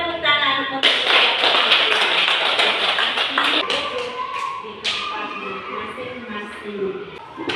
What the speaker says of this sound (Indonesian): mari kita berikan tepuk tangan untuk